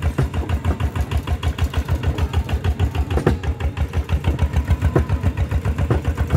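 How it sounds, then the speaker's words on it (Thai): A walk-behind tractor engine runs at a steady idle-like chug with rapid regular firing pulses, loud and close, its worn bearings adding a rattling mechanical clatter throughout. "เสียงลูกปืนดังเลยครับ"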